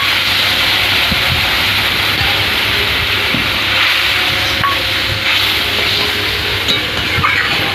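Water poured into a pan of hot black mustard paste masala cooked down in oil for a hilsa fish curry, giving a steady, loud hiss and sizzle that continues throughout with no talk.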